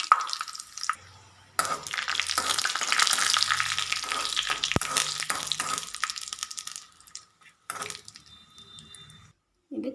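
Dried red chillies and curry leaves crackle and sizzle loudly in hot oil for an okra curry tempering, a close, busy spitting hiss that fades and stops near the end, with a few brief clinks.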